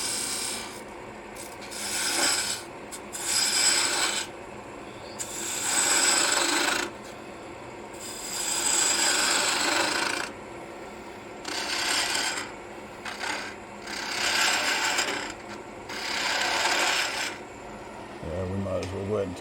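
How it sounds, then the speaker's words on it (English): A spindle gouge cuts into spinning wood on a lathe while turning a wooden scoop: repeated rough, rasping bursts of several seconds each, fairly close, separated by brief pauses. "We'll go ahead and come in at this point with a spindle gouge."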